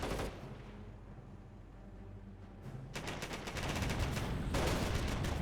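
Gunfire from a Company of Heroes battle between Grenadiers and flamethrower engineers, a steady crackle of rifle and machine-gun shots that grows denser and louder in the second half.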